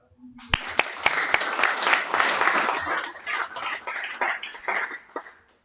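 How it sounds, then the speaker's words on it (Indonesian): An audience at a Yudisium graduation ceremony in Salatiga claps for lecturers and staff, scattered sharp claps swelling into a sustained round of applause that tapers off, with a few coughs and murmurs. "Tepuk tangan dong"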